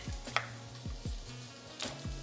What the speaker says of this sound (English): I'm gonna start chopping my broccoli